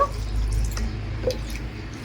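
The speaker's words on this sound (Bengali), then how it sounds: "দুই থেকে তিনবার জল পাল্টে পাল্টে ভালো করে কিন্তু লঙ্কাগুলো আমি ধুয়ে নেব" Green chillies are washed in water, with soft dripping and gentle sloshing over a low background hum, a few faint splashes standing out briefly.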